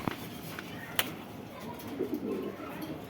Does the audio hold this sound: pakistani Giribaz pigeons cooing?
yes